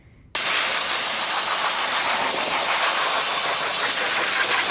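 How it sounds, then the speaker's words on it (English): Compressed air blasts dirt away around the intake manifold of a BMW B58 engine, starting abruptly after a brief quiet moment and continuing as a loud, steady, close hiss with no one speaking. "I'm gonna go in with compressed air and just blow everything off around the intake manifold."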